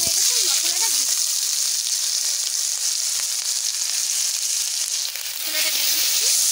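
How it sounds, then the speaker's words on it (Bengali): Masala spices hitting hot oil for a karela dish, giving a steady, loud broadband sizzle throughout, with brief faint voice traces underneath. "তেল গরম হয়ে গেছে, মশলাটা দিয়ে দিচ্ছি।"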